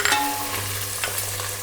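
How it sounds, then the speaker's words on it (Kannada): Vegetables for soya pulao hiss loudly in a pan on high flame as a spoon stirs them, with a few scraping strokes over the continuous sizzle and a low hum. "ಎಲ್ಲ ಹಾಕಿ ಹೈ ಫ್ಲೇಮ್ ಒಳಗೆ ಕರೆಕ್ಟಾಗಿ ಈಗ ಇದನ್ನ ಮಿಕ್ಸ್ ಮಾಡ್ಕೊಳ್ಳೋಣಂತೆ."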